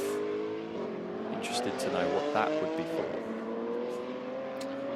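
GT3 race cars lap Donington Park during a British GT race, a steady engine drone with rising and falling pitches as cars pass, under continuous commentary.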